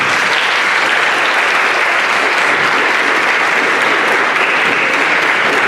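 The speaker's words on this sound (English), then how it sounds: "I want to give you a hand of applause for being here this afternoon" Loud, continuous audience applause filling an afternoon drone forum gathering, even and unbroken from start to finish.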